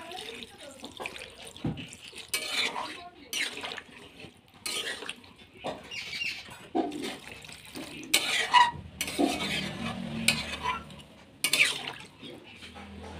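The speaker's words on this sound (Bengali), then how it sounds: "এবার আমি একটুখানি বেশি করে পরিমাণ মতো জল দিয়ে দেবো।" Water poured into a pot of chicken stew, coming in several separate splashing bursts with quiet gaps between them, close and fairly loud.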